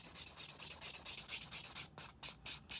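A 180-grit fine file rubs back and forth over an acrylic nail in quick, steady strokes, a soft rhythmic scratchy sanding close up, with no talk.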